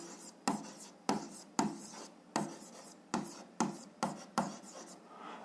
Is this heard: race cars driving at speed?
no